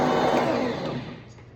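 Electric stand mixer whirring as it spins hot cross bun dough before flour goes in, a steady close motor hum that tapers off toward the end.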